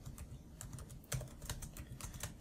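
Typing a LaTeX figure caption on a computer keyboard: a steady run of quick, close key clicks with one slightly louder press about halfway through, over a low background hum and with no voices.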